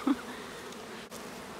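Honeybee colony being installed as a new hive, bees fanning and reorganizing, a faint steady low buzz with one brief louder bee passing near the start.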